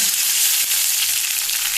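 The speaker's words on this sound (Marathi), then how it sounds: "आतां आमी फोडणी दिवया. सांसवां घालुया, करवील घालुया" Mustard seeds and curry leaves crackle and sizzle steadily in hot oil in a pan while tempering for Goan ambade, a close, loud, continuous hiss with no talk.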